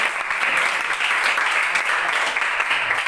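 A class of schoolchildren applauds together during an Islamic ethics lesson, a steady, dense clapping that carries through the whole stretch at close range with no break.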